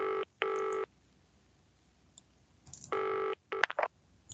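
In a recorded English listening exercise, a telephone gives short bursts of dialing tones, then a quicker cluster of beeps, close and clean against near silence with no voices.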